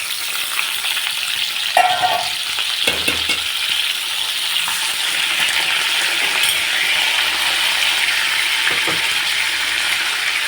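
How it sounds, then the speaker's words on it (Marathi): Potatoes fry in plenty of hot oil with a continuous bright sizzle, interrupted by a few clinks and stirring scrapes early on, with no voices. "आता आपण बटाटे तळून घेऊ"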